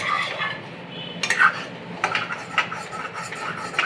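Egg fried rice being stirred in a pan, with a utensil scraping and clinking against the metal in a series of irregular strokes, some louder knocks standing out over a steady low kitchen background.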